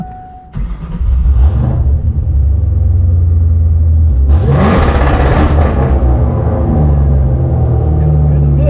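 A supercharged Ford Mustang with an Eaton blower revs hard for a launch, a loud close roar that climbs, holds steady, then surges again with a whining rise near the end.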